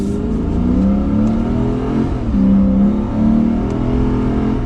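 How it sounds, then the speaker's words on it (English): A 2022 Lexus IS 500 F Sport accelerates on the road, its engine note loud and steady, rising and swelling through the gears with no talking. "as we get this 2022 Lexus IS 500F Sport out on the road, we're gonna give it a little bit of gas here."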